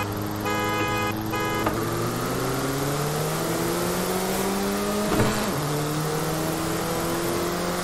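Peugeot 205 engine in Forza Horizon 5, a steady revving drone whose pitch climbs smoothly through several gear changes, loud and continuous with a brief clunk midway and no talk over it.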